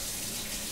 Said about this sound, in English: just literally run your finger under the water